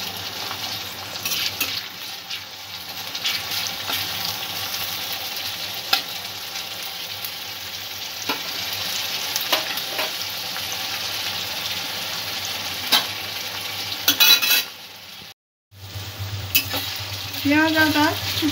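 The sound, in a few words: onion and ginger frying and being stirred in a pan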